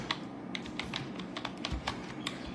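Quick, irregular clicks from a computer keyboard as a ledger entry is typed into accounting software, close and fairly quiet, with no speech over it.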